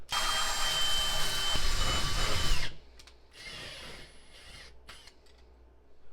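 A power drill whines loudly for nearly three seconds while drilling a pilot hole for a tweeter bracket in a Ram truck front door, then cuts off abruptly, leaving faint clicks and quiet handling noises.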